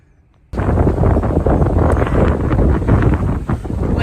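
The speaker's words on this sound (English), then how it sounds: "Wind is getting with it." Strong wind on a farm where fencing is being torn down roars across the microphone, kicking in abruptly after a brief quiet moment and then buffeting loudly and continuously, with no talk.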